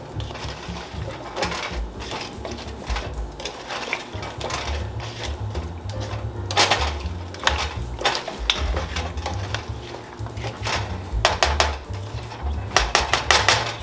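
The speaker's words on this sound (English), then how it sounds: "now we're just gonna mix the potatoes around in that sauce" Potatoes are stirred around in sauce in a pan for Jamaican-style escovitch fish, giving repeated scraping and clinking of a utensil against the pan with soft wet shuffling, close and without talk.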